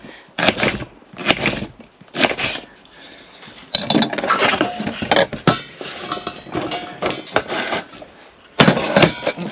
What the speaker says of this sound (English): I could just bung the whole onion in full, but I might as well just cut it down.